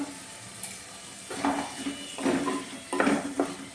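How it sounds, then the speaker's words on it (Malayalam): A spoon scrapes and clinks in a pan as tomato and ginger-garlic paste are stirred for a prawn curry, with soft sizzling and several distinct scraping strokes that grow louder toward the end. "തക്കാളി ഇട്ട് കൊടുക്കാം ഇഞ്ചി വെളുത്തുള്ളി പേസ്റ്റ് ആക്കി ഇട്ട് കൊടുക്കാം നന്നായിട്ടൊന്ന് ഇളക്കാം"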